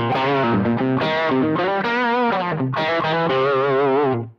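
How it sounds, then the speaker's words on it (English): Tokai Love Rock electric guitar played through its bridge P90 pickup, a raw, fat distorted tone with sustained chords and ringing notes, loud and continuous before cutting off at the end, with no talk. "So like the bridge P90 is a really raw sound."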